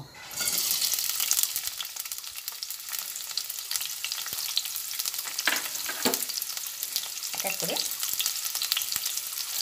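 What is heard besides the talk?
onion and garlic frying in oil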